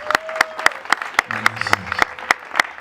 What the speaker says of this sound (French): Et donc on applaudit très fort pour monsieur Josué.